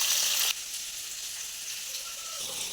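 Potatoes frying in a mix of mustard oil and white oil, a bright sizzle that drops suddenly to a softer, steady hiss after a moment.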